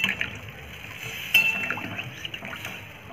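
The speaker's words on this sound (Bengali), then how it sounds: "জল দিয়ে দেবো।" Water pours into a cooking pot for an egg dish, a brief, fairly quiet liquid trickle and splash with a faint clink.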